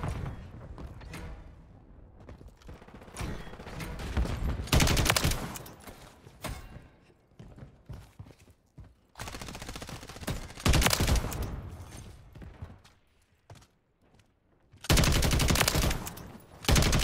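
Gunfire from a Taq Evolvere rifle in Modern Warfare 3 comes as several loud, dense bursts of rapid shots, separated by quieter stretches of game noise.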